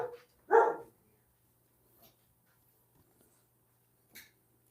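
A dog gives one loud, close bark near the start, followed by a few faint, brief yips or sounds in an otherwise quiet room during a jewelry sale.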